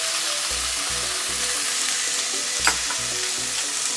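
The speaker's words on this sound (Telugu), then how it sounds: "కొంచెం ఉప్పు అన్నీ వేసుకొని బాగా రోస్ట్ చేసుకుంటున్నాం." Sliced capsicum and mushrooms roasting in a pan with turmeric and salt for a pepper mushroom curry, a loud, steady close-up sizzle with soft stirring scrapes and one brief clatter, no voices.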